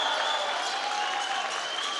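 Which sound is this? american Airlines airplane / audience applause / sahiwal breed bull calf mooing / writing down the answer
audience applause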